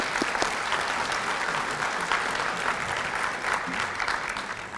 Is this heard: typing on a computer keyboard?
no